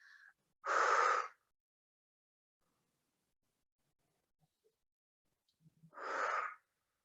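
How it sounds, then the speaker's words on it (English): Two forceful open-mouth exhales during a yoga breathing exercise, each a breathy rush of about half a second, spaced several seconds apart in a quiet room. "take those open mouth exhales if you're not already"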